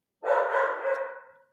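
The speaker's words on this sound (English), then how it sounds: "No, that's 3 dogs. There's 2 Aussie Shepherd minis and 1 mutt." Dogs, two mini Australian Shepherds and a mutt, give one drawn-out, moderately near bark that swells quickly and then fades over about a second, standing alone against silence.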